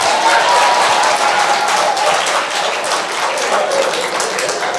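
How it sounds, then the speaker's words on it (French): A lecture audience applauds loudly and steadily throughout, a thick continuous wash of many hands clapping close to the microphone, easing only slightly near the end. "Les femmes, vous pouvez au moins m'applaudir."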